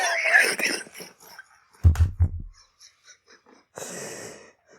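A burst of low, rough coughing close to the mic, with breathy wheezing sounds before and after.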